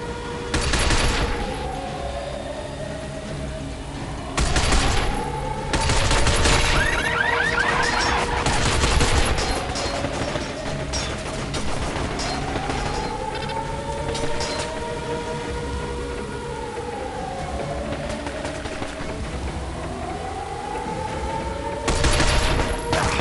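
Bursts of rapid gunfire in a shooter video game played through an Android Windows emulator, loud volleys at about 1, 5, 6–9 and 22 seconds over a steady rumbling game backdrop with arcing tonal sweeps.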